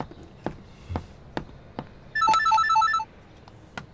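An indoor telephone gives one short, trilling electronic ring burst, loud and close, between several footsteps walking toward it, with no talk.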